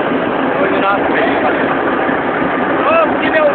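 A tractor engine runs steadily at a loud, even drone, close by, with muffled voices underneath.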